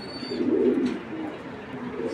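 A racing pigeon on a farm coos nearby, one low throaty rolling call swelling and fading, with steady background hum and no talk.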